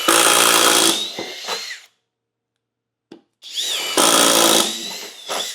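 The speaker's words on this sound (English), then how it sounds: "If you wanted to drill a 3/8" hole very rapidly through wood," A power drill with a self-feeding bit bores a 3/8-inch hole through wood framing, two loud, close bursts of whirring and chewing separated by a short silent pause.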